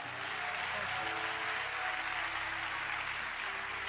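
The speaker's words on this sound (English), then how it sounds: "Give the Lord a big, big clap." A church congregation at a tent revival claps together in a dense, steady burst of applause that fills the whole stretch, with faint music or organ tones sustained underneath.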